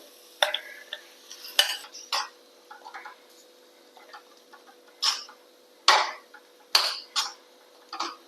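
Vada pav potato filling stirred in a pan, giving a scatter of sharp scraping and clinking strokes of a utensil against the metal, irregular and close, with quiet gaps between them and no talk.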